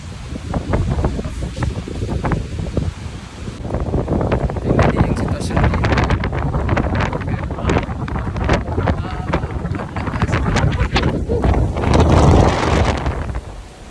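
Strong typhoon wind in Hong Kong roars and buffets continuously and loudly against the microphone, with gusting surges throughout while people talk over it.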